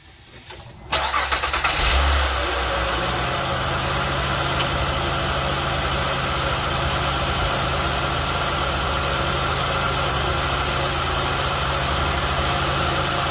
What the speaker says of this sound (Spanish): Entonces le vamos a echar a andar al motor.